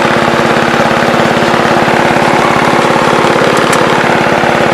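A riding lawn mower engine idles loudly and close, a steady rapid putter with a constant rumble and no pauses.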